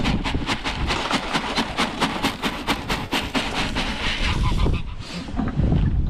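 A flock of geese on a farm honks loudly and repeatedly at close range, a dense run of overlapping calls with brief mixed noise near the end.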